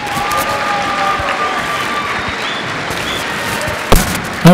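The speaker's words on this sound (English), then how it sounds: "Let's give all of our speakers one more round of applause" Audience at a live event applauding its speakers, a dense, sustained patter of clapping with a faint murmur of crowd noise, broken near the end by a couple of sharp knocks or thumps.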